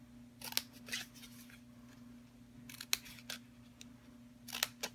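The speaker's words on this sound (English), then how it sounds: "we're just going to cut up to that score line." Scissors cut paper up to a score line, making a few quick crisp snips in short clusters, close and quiet over a faint steady hum.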